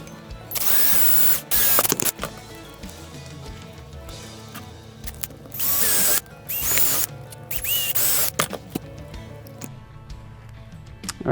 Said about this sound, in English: what I need to do is drill 4 mounting holes for the bracket